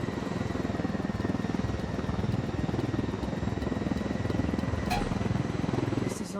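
Steady rhythmic helicopter rotor thumping with engine drone in the video game Ghost Recon Wildlands, continuous and fairly loud throughout, with a brief sharp click near the end.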